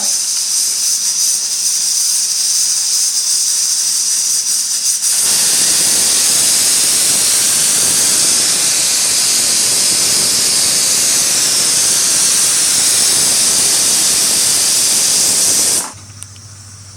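A pressure cooker on a gas stove lets out a loud, sustained steam whistle that starts abruptly, holds a hissing roar for about ten seconds, then cuts off sharply.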